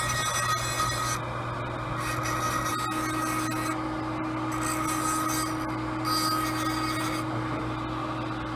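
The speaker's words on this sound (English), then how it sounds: "I grind it about a millimeter or two all the way around the finish line, make it real smooth" Barrel stones grind a metal denture partial, a steady close rasping whir that swells and eases in several passes as the piece is turned and smoothed.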